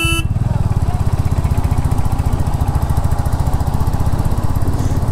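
A 100cc scooter engine runs loud and close while riding, with a fast, even putter throbbing steadily throughout and no speech over it.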